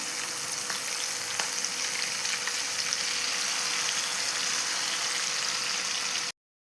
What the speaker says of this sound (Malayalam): ഇനി നമുക്ക് ബാക്കിയുള്ളതും കൂടി ഒന്ന് വറുത്തെടുക്കാം